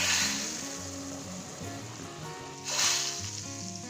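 A hot spice tempering sizzles and hisses as it is poured over black masoor lentil dal, swelling at the start and again near the end, with soft music playing underneath.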